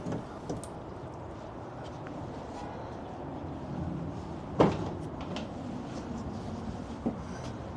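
The doors of a 2025 Ford Transit 350 HD high-roof extended dually van are worked open. There is a low rumbling, one sharp loud latch clunk partway through, and a fainter knock near the end.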